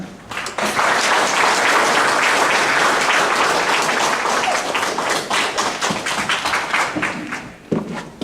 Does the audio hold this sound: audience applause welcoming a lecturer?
yes